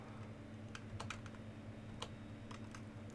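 Quiet typing on a computer keyboard, a scattering of light, irregular key clicks over a faint steady background hum, no voices.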